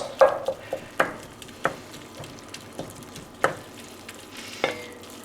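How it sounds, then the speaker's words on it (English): Vegetables sauteing in meat fat in a pot, with a low crackle under a handful of sharp clattering stirs and scrapes spaced through the stretch, fairly near with no voices. "then you saute your vegetables"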